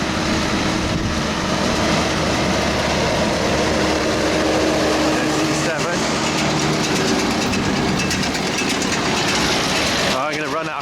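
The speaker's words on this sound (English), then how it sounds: "it's Tom doing what he's good at on the baler" A tractor pulling a baler works through second-cut silage, its engine giving a loud, steady, close drone with a mechanical rumble that runs without a break for the whole stretch.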